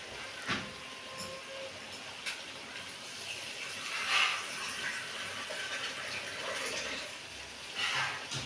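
Water poured into a pan of spices for a hilsa fish curry, a soft running splash with faint bubbling and a few light clinks, fairly quiet throughout.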